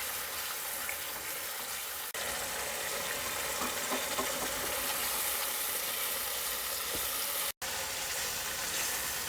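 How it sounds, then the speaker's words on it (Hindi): Mutton frying over a high flame with spoonfuls of yogurt for a restaurant-style palak gosht gives a steady, dense sizzle that runs throughout, broken by a brief cut near the end, with no voices. "तेज़ आंच पर मटन को भूनेंगे। साथ में थोड़ा थोड़ा दही डालते जाएंगे।"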